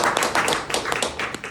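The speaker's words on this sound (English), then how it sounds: "You all deserve a round of applause for that" A breakfast audience at a school partnership event claps in a brief burst, dense close-up handclaps overlapping into a short round of applause.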